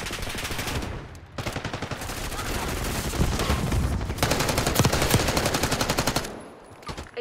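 Bursts of automatic gunfire in Call of Duty: Black Ops 6, rapid machine-gun rattles close and loud, broken by short pauses and ending in scattered shots.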